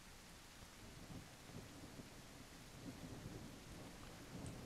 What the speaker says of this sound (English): So if I push play, it's raining.